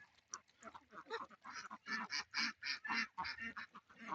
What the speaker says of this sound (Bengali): আমার হাঁসগুলি